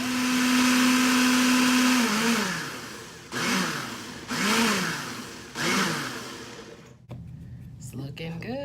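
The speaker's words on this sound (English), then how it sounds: "I'm going to put this in the blender" A blender whirs loudly at a steady pitch blending a hair mask, then pulses in three short bursts that rise and fall before stopping.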